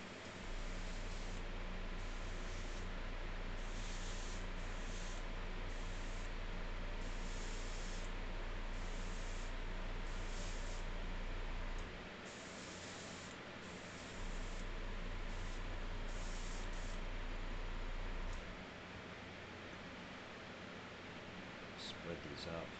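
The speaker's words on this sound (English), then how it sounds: "I've got my airbrush already loaded with this color here." An airbrush loaded with paint sprays onto a scale model, producing a steady close airy hiss that runs almost continuously, breaks briefly, then resumes.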